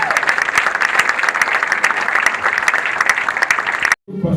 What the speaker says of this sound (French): Applaudissez pour la première dame